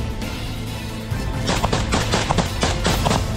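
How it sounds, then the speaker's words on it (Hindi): Bursts of machine gun fire sound in Ukrainian combat footage of a special forces counterattack, rapid cracking shots clustering over a constant rumbling background, growing denser in the second half. "इसमें यूक्रेन की स्पेशल फोर्स मशीन गन से गोलियां चलाते हुए आगे बढ़ रही है।"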